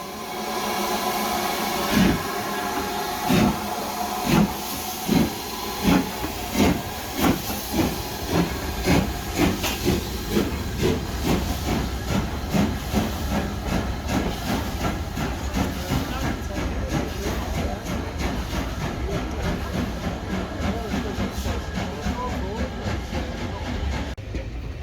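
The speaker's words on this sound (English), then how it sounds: "What train was that, Jen?" A steam train passes close beside the Caledonian Canal in Scotland, a steady loud hiss of steam over rhythmic clickety-clack wheel beats that slowly quicken and blur as it goes by, with people talking faintly underneath.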